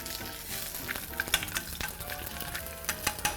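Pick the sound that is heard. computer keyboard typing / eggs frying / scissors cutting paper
eggs frying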